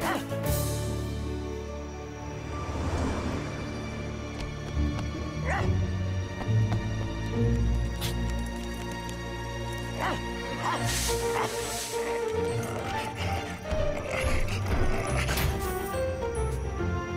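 A cartoon dog barks and whimpers over a busy animated soundtrack with music and effects, the yips and whines recurring throughout.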